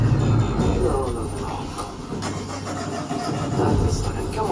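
A steady, rumbling engine hum from a time-machine car during a theme-park drone show at Universal Orlando, with a low drone that rises and falls under crowd chatter.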